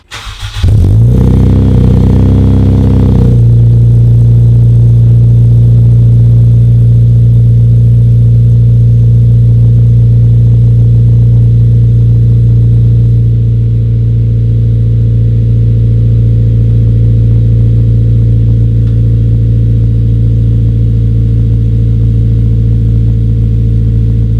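A Mugen Integra fitted with a Skunk2 race header and new engine mount inserts starts with a short rev, then settles into a steady, loud, droning engine note while driving, alone without talk.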